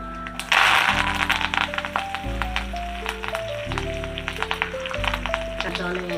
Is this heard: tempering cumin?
yes